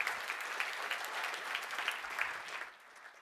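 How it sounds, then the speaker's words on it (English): An audience claps steadily, a dense patter of applause that fades out toward the end. "Give them another hand."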